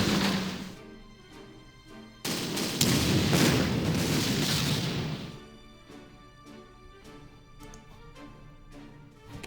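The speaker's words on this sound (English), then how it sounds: "Let's move in here and open fire." Gunfire and explosions from the strategy video game Panzer Corps, with sharp cracks, a heavy sustained burst of booming blasts in the middle, then repeated scattered shots as it eases off.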